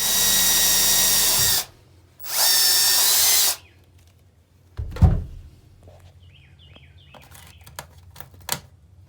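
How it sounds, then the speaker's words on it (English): A power drill whines in two bursts as it bores a hole through a camper panel, followed by a few knocks and light clicks nearby. "we're going to drill a hole so we can reroute this tube"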